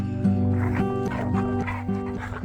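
Two dogs romp and bark outdoors around a raised bed garden, with repeated loud, harmonic barks and yips in quick bursts, close to the listener and continuous through the moment.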